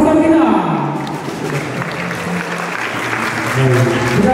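Congregation applauding the pastor at an Easter thanksgiving Mass in a church, a steady wash of clapping hands lasting several seconds, with a speaker's voice carrying over it.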